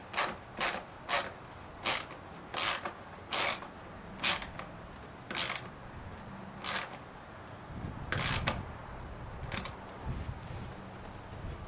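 Hose clamps being tightened on a drive-by-wire throttle body, heard as a series of short, crisp ratcheting clicks in a regular rhythm, close and fairly quiet, followed by some rubbing and handling noise.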